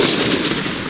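Gunfire during a large joint military exercise in Thailand, a loud, dense burst of shots heard briefly and close, with no speech.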